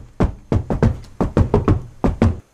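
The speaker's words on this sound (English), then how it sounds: "let me hear you stomp your feet" Stomping feet from a crowd of Saint Rock fans thud in a steady rhythm, about ten heavy, close, evenly spaced beats with no voices.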